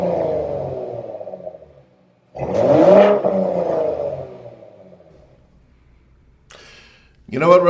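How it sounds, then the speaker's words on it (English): A recorded exhaust note from a 2021 Ford Raptor plays back: a droning engine tone fades out, then a loud rev swells and slowly dies away, ending in short sharp bursts of sound. "We actually have some of the exhaust note audio from their recent reveal"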